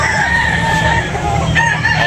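A rooster crows loudly and close among fowl at a gamecock sale area, the white Kelso cock's call stretched out over clucking birds and a busy background.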